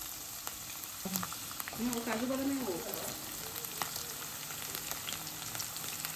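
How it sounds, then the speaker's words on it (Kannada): Dry fruits fry in hot ghee in a pan for sheer khurma, a steady soft sizzle with occasional stirring taps, close and fairly quiet, with a brief faint vocal sound partway through. "ಹೀಟ್ ಆಗಿದ್ಮೇಲೆ ಎಲ್ಲ ಫ್ರೈ ಮಾಡ್ಕೊರಿ"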